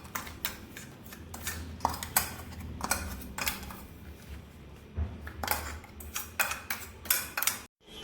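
Spoon strokes tapping and scraping as a biscuit and Amul butter mixture goes into a plastic jar, with a close series of irregular clicks and clinks.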